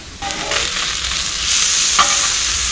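Meat for a Filipino breakfast burrito fries in added oil until crispy, a bright steady sizzle that swells as it is stirred, with a short scrape of a utensil near the end.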